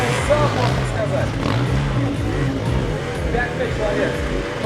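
An enduro racing motorcycle, a self-designed machine, drones steadily with a low engine hum under continuous commentary from an announcer.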